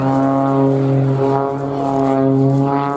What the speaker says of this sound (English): he's maintaining a virtual hover position using that residual power from those additional little jet engines